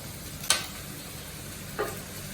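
Pork sisig sizzles steadily in a pan as chili goes in, with two brief louder scrapes or stirs standing out over the constant frying hiss.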